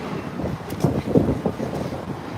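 Blustery winter wind in Central Park, New York City, buffets the microphone in loud, uneven gusts and rumbles, with no speech.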